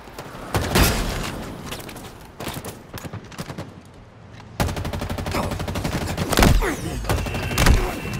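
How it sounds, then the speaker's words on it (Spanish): Rapid bursts of gunfire and booming shots in the online shooter Halo Infinite, loud and dense, with sharp repeated cracks and heavier blasts over game ambience. "En una lluvia de disparos."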